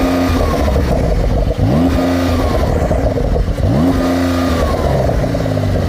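Porsche 911 Sport Classic engine revved hard in a few loud, rising blips that fall back toward idle, up close with no talking.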